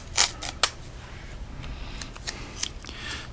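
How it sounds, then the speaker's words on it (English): Masking tape is ripped off the roll and pressed onto the hood of a NASCAR model car: two sharp tearing bursts early on, then quieter crackling and handling noises close by. "I'm going to take some masking tape here and tape that hood on"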